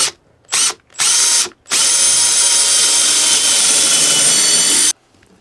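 A power drill countersinks a hole in wood while building a birdhouse: two short close whirring bursts, then one long steady high-pitched run of about three seconds before it stops.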